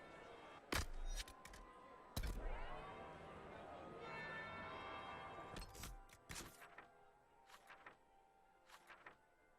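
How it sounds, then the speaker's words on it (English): A church bell rings in the video game Dragon Age: Inquisition. Several sharp clanging strikes sound with long ringing decay in between, fairly faint overall, with some quiet talk around them. "That will be the second bell."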